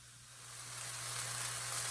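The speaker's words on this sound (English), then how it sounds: "we're still sauteing here" Apples sauté in a hot pan, giving off a soft, steady sizzle that builds slightly over two seconds and stays faint and close, with no talking.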